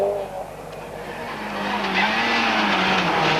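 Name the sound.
Ford Sierra Cosworth rally car racing on a stage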